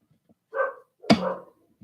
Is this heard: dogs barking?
yes